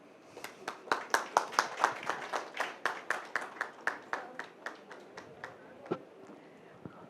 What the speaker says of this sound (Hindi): मुझे लगता है इससे ज़्यादा वाली तालियां बनती थी